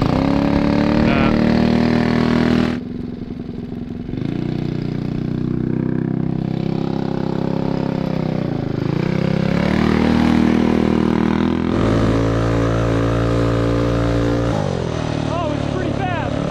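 A 228cc gas engine drives a four-wheel-drive Power Wheels Ford Bronco go-kart. It drones loudly and steadily nearby, drops briefly, then revs up and down as the kart moves, with voices over it at times.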